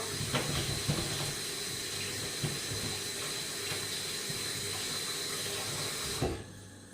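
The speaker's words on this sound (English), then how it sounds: "you get all of these things washed" Vegetables for a jackfruit shrimp curry and steamed veg are rinsed under a running kitchen tap, a steady close rush of water into the sink with small splashes, cutting off abruptly near the end.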